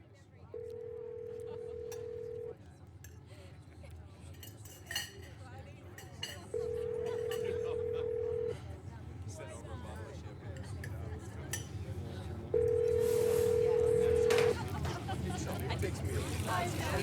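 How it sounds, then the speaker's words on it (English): A phone rings in the narrative video game Scarlet Hollow. Three evenly spaced ringback tones, each about two seconds long, sound clearly over steady background music. "So he pulls out our phone and dials it,"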